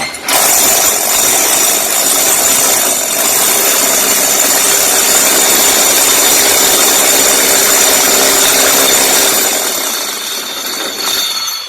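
A power drill with a hole saw cutting steadily and loudly for several seconds, a continuous harsh whine with grinding texture that eases off at the end.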